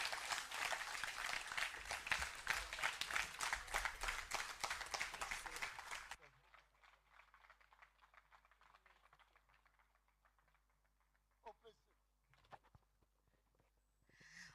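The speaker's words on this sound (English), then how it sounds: "I think the man Alan Cash deserves another round of applause." An audience at an evening political speech event applauds loudly for about six seconds, then the clapping stops abruptly and a quiet room with faint shuffles and scattered noises follows.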